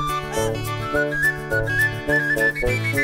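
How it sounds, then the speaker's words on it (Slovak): A little pipe whistle plays a lively, bouncy tune over a steady accompaniment in a children's song, its bright notes riding clearly above the music. "Vyhrávala píšťalka v sade zelenom."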